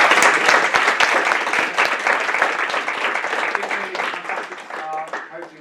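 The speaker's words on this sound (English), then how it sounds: "If we can have a round of applause for" A crowd at a launch event applauds loudly and steadily, dense clapping that slowly fades toward the end.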